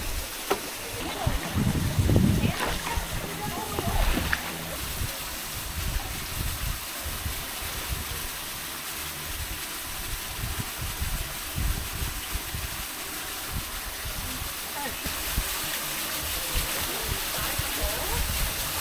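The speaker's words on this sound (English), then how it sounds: "they're filling up a water bottle here from a spring" Water trickles and splashes steadily as a bottle is filled from a warm spring flowing through a calcium carbonate tube in the Grand Canyon, a continuous close gurgle with a few louder bursts early on.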